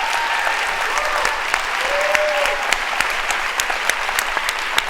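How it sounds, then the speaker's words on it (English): A conference audience gives a loud, sustained round of applause, dense clapping with sharp individual claps standing out and a few faint whistles or cheers mixed in. "we should be giving a big round of applause to Greta and people like Greta"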